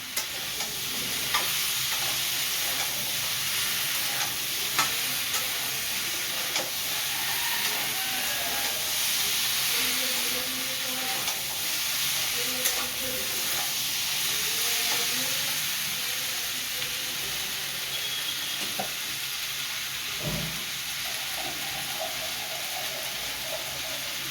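A catla fish head fries in a pan with Malabar spinach, a soft continuous sizzle under scattered scraping and clinking stirs, fairly quiet and close.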